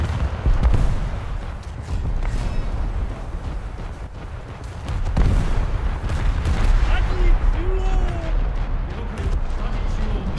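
Heavy warship guns boom in a naval video game, with deep, rumbling blasts that roll on under continuous battle noise and a few higher tones.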